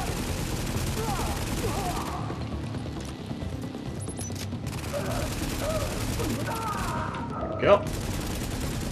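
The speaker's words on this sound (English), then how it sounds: "Turret is doing great because it's distracting them and it's doing damage." Automated turret firing at enemies in the game Tom Clancy's The Division, a steady run of rapid gunfire bursts filling the whole stretch, with a brief spoken word over the shooting.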